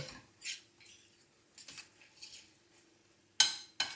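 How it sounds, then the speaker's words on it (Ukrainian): A spoon scrapes and clinks against a pan in short, scattered strokes, quiet and close, with a few sharper metallic taps near the end. "Тепер все це гарно перемішали."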